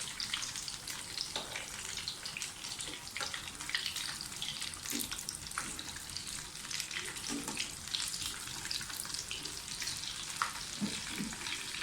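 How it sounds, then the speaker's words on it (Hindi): Potato cutlets fry in a pan with a steady, dense sizzle and crackle that runs without a break. Faint scrapes and small pops rise now and then, and no one speaks. "छः 7 मिनट हो गए एक साइड से फ्राई होते हुए।"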